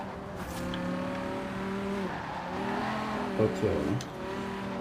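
A BMW M6 Coupe in a drift racing game holds a steady engine note in third gear, then tires squeal in short bursts near the end while someone talks over it.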